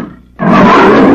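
A voice imitates a tiger's roar in a Telugu comedy scene, a loud, sustained growling roar that bursts in after a brief quiet moment and holds steady to the end.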